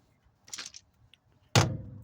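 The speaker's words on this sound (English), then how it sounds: "Use the impact as a hammer." An 18-volt cordless impact wrench, swung as a hammer against a stuck socket in a tool torture test, gives one loud, sharp metallic knock that rings out and decays. Quieter clattering comes shortly before it.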